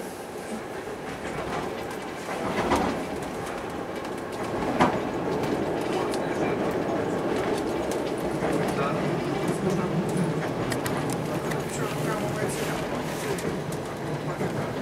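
IR 1540 passenger train running from Brașov to Miercurea-Ciuc, heard from inside as a steady broadband rumble with faint rhythmic wheel clatter and a couple of louder knocks, voices talking over it.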